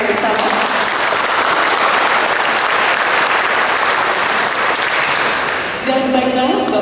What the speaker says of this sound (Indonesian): Kita beri tepuk tangan bersama.